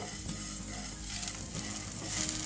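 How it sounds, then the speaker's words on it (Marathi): Coriander and cumin seeds dry roasting in a pan without oil, giving a faint, steady crackle with soft stirring scrapes throughout and no voices. "आणि यामध्ये थोडेसे आपल्याला धणे घालायचे आहेत, जवळपास 2 चमचे, 1 चमचा जिरे, आणि हे सुद्धा आपण भाजून घेऊ"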